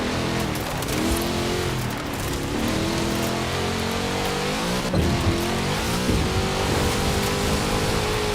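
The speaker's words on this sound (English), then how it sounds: "Such power in the big Chevrolet engine." A big Chevrolet car engine roars steadily in the racing game Forza Horizon 4, loud and continuous with shifting pitch, mixed with road and rain-like noise.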